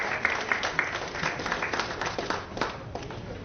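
A crowd claps for the Admark Multiventures award at the Arthsanket MahaBrand 2026 ceremony, a dense, steady patter of many hands that carries on without letup for the whole stretch.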